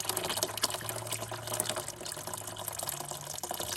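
Water mixed with oil gushes from the engine of a 1926 Fordson F tractor into a drain pan, a steady splashing, trickling pour heard up close with no talking.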